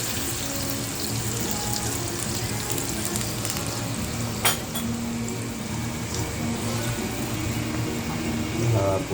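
Sauce of vinegar, soy sauce and sugar hitting a hot pan, giving a constant loud sizzle with scattered utensil clinks and a faint watery hiss, no speech over it.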